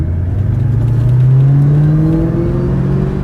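A 2003-04 Ford Terminator Cobra cruises through a neighborhood, its engine loud and close, rising steadily in pitch as it accelerates through a gear and then holding a strong, even drone.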